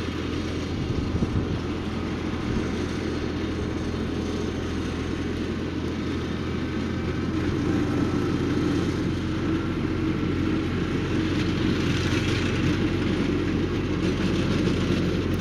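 A tractor engine running steadily while mowing a farm dam embankment, a continuous low heavy drone with a mechanical whir, close and loud throughout with no talk.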